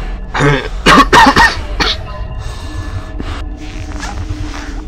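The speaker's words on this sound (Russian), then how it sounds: "А вот то, чего я как раз и боялся, кашель." A person coughs several times in quick, harsh bursts close to the microphone, with a throat-clearing snort, then quieter breathing and faint background noise while playing Five Nights at Freddy's 2.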